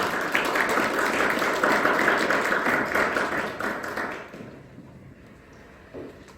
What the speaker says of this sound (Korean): 유희수 박수로 환영해 주십니다.